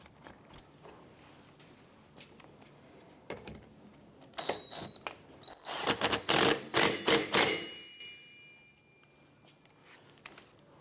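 A nut is snugged down on the rear wiper arm of a 2008-2013 Nissan Rogue, giving scattered sharp clicks that build into a quick burst of rapid ratcheting tool clicks near the middle, close and with no talk.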